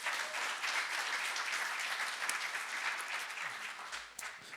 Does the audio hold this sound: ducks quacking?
no